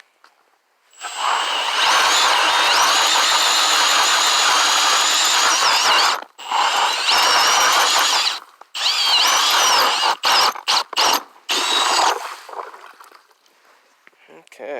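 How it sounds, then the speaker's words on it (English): A gas-powered ice auger runs loud and close as it bores through lake ice about a foot thick, the engine droning steadily with brief cut-outs and revs near the end, and a voice briefly speaks. "I already kind of started a little bit to get the auger to just hang here on his own"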